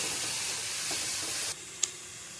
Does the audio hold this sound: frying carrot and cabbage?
yes